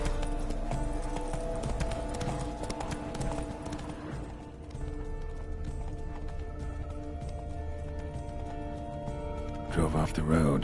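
Roach the horse galloping in The Witcher 3: Blood and Wine, a steady rapid clip-clop of hooves up close, running on under a music score with a spoken voice over it and a brief whinny-like burst near the end.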